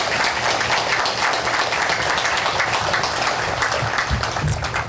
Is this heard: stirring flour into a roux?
no